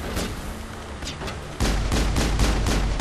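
Gunfire in the Mass Effect video game, a string of sharp shots that are loud and close, with a heavier burst of rapid fire in the second half.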